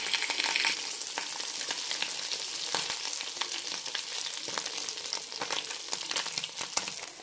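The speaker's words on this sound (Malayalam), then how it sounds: "മീഡിയം ഫ്ലെയിമിലിട്ട് വറുത്തെടുത്താൽ മതി." Appam batter made with urad dal fries in hot oil on a pan over a medium flame, giving a steady close sizzle and crackle with faint stirring clicks and no talk.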